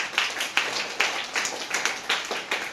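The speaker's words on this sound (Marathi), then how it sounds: "टाळ्या वाजवा" A small group claps hands together in an even, repeated rhythm of sharp slaps, moderately close, with no one speaking.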